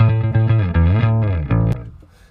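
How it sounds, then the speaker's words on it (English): Recorded bass guitar track playing a short run of heavy, distorted low notes in a steady rhythm, loud and upfront, ending with a final note that decays away. "This is your bass track."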